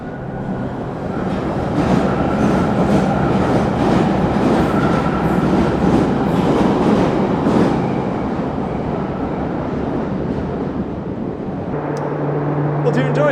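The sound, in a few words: London Underground train passing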